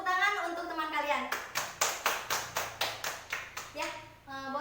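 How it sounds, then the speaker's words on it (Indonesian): Classroom applause for a classmate, a quick run of about a dozen sharp, even claps from a group of pupils, with voices speaking just before and after. "Tepuk tangan untuk teman kalian."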